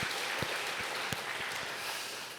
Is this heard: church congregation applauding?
yes